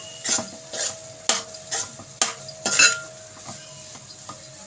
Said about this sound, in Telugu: కొంచెం వెనిగర్ వేసుకోవాలి ఒక స్పూన్ వేసుకోవాలి ఇదిగోండి ఇలా కలిపేసుకోవాలి